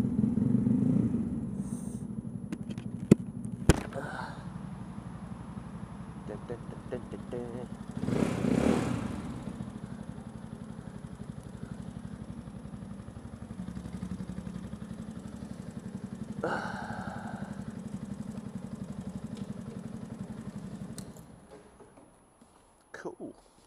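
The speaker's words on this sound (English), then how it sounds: "I'll happily just shove my motorcycle in this gap." A motorcycle engine idles nearby and is maneuvered into a parking gap, a low steady rumble with a few clanks and bumps, dying away near the end, while a person talks over it at points.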